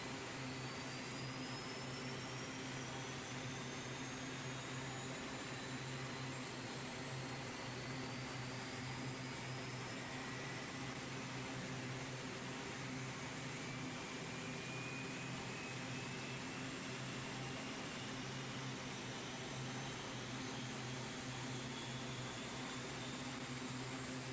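Aircraft engine two running in the Tower Unite video game, a continuous jet-like roar with low droning tones and thin high whines that slowly climb in pitch, steady and unbroken with no voices.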